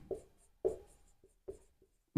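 Chalk or marker writing on a board during a Hindi-language history lesson: three short, scratchy strokes with pauses between them, then a louder, fuller scrape at the very end, all fairly close and with no talking.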